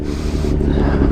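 Steady wind buffeting a microphone while riding a Suzuki GSX-R motorcycle, a constant low rumble and roar throughout with no voices.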